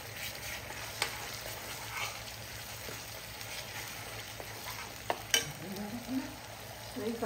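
Mango chutney frying in a pan, a soft steady sizzle under light stirring, with a few faint clicks of the spoon against the pan.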